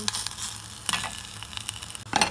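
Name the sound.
kirsch igniting and flambéing in a saucepan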